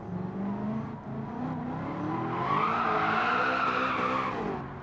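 A new Corvette's tires break loose as it slides sideways, a sustained tire squeal rising over the engine's drone, loud and continuous for several seconds.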